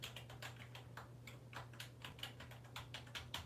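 Rapid keystrokes on a computer keyboard at a gaming PC, a steady run of light clicks with a constant low hum from the running machine beneath.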